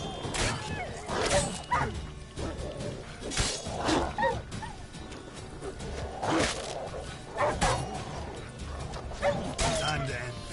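Dogs attacking in The Witcher 3, with repeated barks, yips and snarling bursts over busy combat clatter and game music, close and fairly loud throughout.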